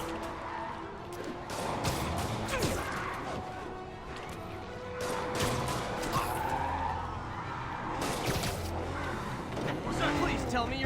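Tires skid and squeal as a car is driven recklessly, with crash-like impacts mixed into a busy, loud action scene and continuous talking throughout.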